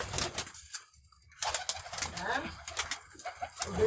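Pigeons in a loft coo in soft, broken bursts at close range, with a voice talking over them and brief quieter gaps between the calls.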